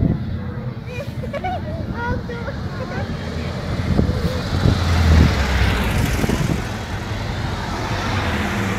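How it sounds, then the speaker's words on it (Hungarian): Old vintage truck rolling past at an outdoor vintage car show in Felixstowe, its engine rumble swelling as it nears and then fading, with wind noise and voices chatting nearby. "Wow, öreg kamion is jön."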